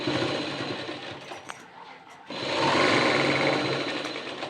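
Sewing machine stitching a blouse at a tailoring workbench, a loud steady mechanical whir that pauses briefly mid-way and then resumes at full speed, with no talking.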